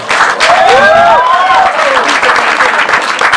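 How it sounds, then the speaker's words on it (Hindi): Loud applause from an audience at a film festival session, steady clapping filling the whole stretch with a few faint tonal sweeps over it. "सो एक बार प्लीज थोड़ी सी जोरदार तालियां हो जाए।"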